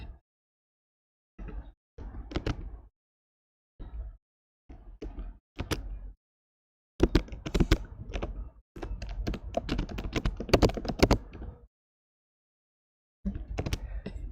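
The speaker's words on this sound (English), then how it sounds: "Are you getting huge sound when I was typing?" Keys clatter on a computer keyboard in irregular bursts of quick taps and thunks, close and fairly loud, with silent pauses between flurries and a long dense run of typing in the middle.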